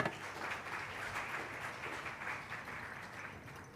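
Audience applause for a conference panel at an education conference in Dubai, a steady, even wash of many hands clapping at moderate volume throughout, no speech over it.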